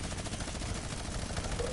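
Rapid automatic gunfire from a zombie video game, a dense continuous burst of shots rattling loudly for under two seconds with no talk over it.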